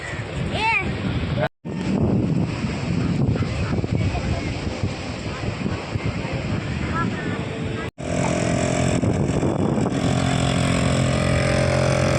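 Sea waves and wind roar together at Ladghar beach in the evening, a loud, continuous surf rush with heavy wind buffeting the microphone and a person talking over it throughout.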